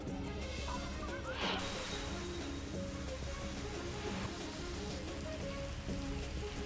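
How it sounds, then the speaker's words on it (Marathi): Steady rain falls across Ahmednagar district in a continuous fairly faint wash of patter, with a brief sharper clatter early on and no voices. "अहमदनगर जिल्ह्यात पावसानं दमदार हजेरी लावली"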